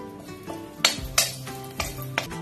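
Cumin powder and a dried red chili hit a hot pan for a lau and moong dal dish, giving a steady sizzle with a few sharp clinks of a spoon against the pan.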